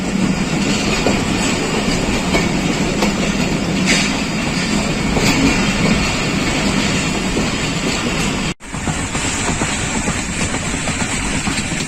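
The Pakistan Express rolls steadily along the rails of the Khanewal–Wazirabad section in Pakistan, a loud, continuous rumble with clickety-clack wheel beats heard from on board, briefly cutting out near the end.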